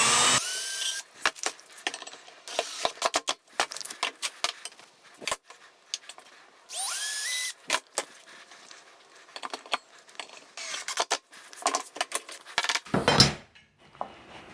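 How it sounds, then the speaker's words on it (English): A power driver sets screws into wooden boards while a Onefinity QCW CNC frame is assembled. Two short, rising motor whirs stand out amid close clatter and rattling of hardware and parts being handled. "it's just going in and putting screws in."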